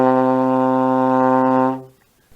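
A trombone with its slide far out in sixth position sounds a sustained low C, a warm buzzy brass note held steadily before fading out.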